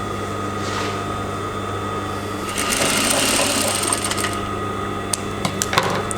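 A sewing machine stitches fabric in a steady, close mechanical whir that grows louder and busier midway, with a few sharp clicks toward the end and no speech.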